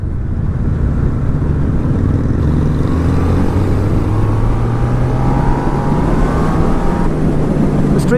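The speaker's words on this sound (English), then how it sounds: "The Street Cup isn't a slow bike, it's whizzing along." A Triumph Street Cup motorcycle whizzes along the road with a loud, close engine note that climbs steadily in pitch as it gathers speed, accompanied by constant wind rush.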